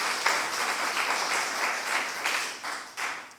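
A church congregation claps steadily together for a few seconds, the applause filling a large room with a few louder bursts near the end.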